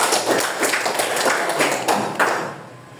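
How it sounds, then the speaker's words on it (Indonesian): A group in a classroom lesson claps for a team of students, a dense round of applause that fades out toward the end. "kita kasih aplaus dulu buat kelompok ini"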